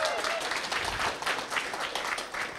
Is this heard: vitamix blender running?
no